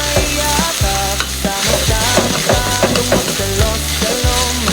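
Garlic sautés in a pan for sinigang, loud close sizzling with scraping stirs and clanks of a utensil against the pan, no talking.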